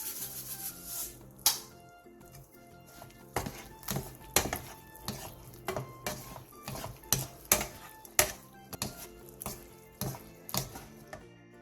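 Stir-fried beef and eggplant with seasonings is tossed in a pan, giving a run of irregular sharp clacks and scrapes of a utensil against cookware, close and clear with no talking.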